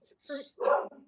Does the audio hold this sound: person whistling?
no